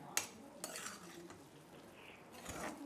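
A spoon scrapes and stirs thick mango and almond semolina sheera cooked in milk and ghee in a pan, with a few quiet, sporadic scrapes and taps over a low background.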